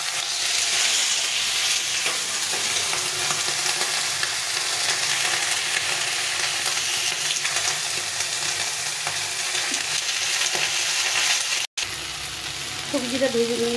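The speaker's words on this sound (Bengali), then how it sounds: "একটু ভালো করে ভেজে নিতে হবে।" Mixed vegetables for a small-fish chorchori sizzle steadily in a hot pan while being stirred, a dense, unbroken crackle close by that breaks off for a moment near the end.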